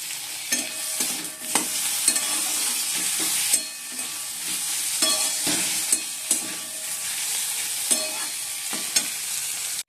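Onions fry in a pan until reddish, a loud, continuous close sizzle broken by repeated scraping stirs and utensil knocks at irregular intervals.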